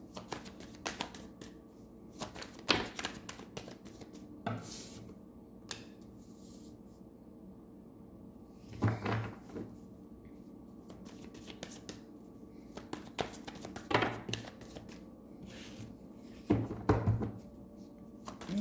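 Tarot cards drawn and shuffled from a deck make soft papery flicks and snaps, quiet and close, scattered in irregular bursts over a faint background hum with no talking.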